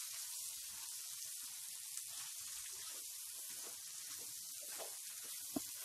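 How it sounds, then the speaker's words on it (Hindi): Cluster beans sizzle softly in a pan as salt is added and they are stirred, a steady low frying hiss with a few faint scraping clicks and no talking. "अच्छे से ग्वार फली को चला लेंगे"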